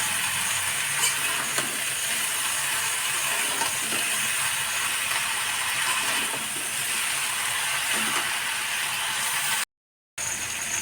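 Chopped spinach frying in a curry pan with potatoes, a steady broadband sizzle with faint clatter of stirring, continuous and fairly close, ending in a brief gap of silence.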